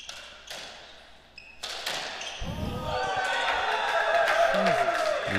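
Spectators at a racquetball semifinal start cheering after a sharp ball strike, building from a few shouts to a sustained roar that keeps getting louder.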